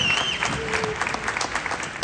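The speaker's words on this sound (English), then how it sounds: "Give yourselves a round of applause for being here." Enthusiastic audience applause at a gun owners' gathering in the Inland Empire, a crowd clapping steadily and loudly with a faint whistle at the start.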